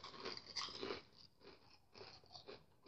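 Kims bacon-flavoured crisps crunched and chewed up close, with loud bursts of biting in the first second, then quieter intermittent crunching.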